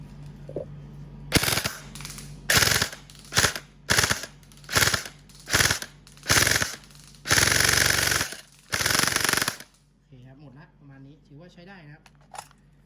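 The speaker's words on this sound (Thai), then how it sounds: "ยิงไปหนึ่งแม็ก หมดเลยหนึ่งแม็ก" A Classic Army M4 carbine airsoft gun with an ABS body empties a full magazine. The close, loud bursts of rapid mechanical firing come in about ten short strings separated by pauses, and quiet talk follows once the gun stops.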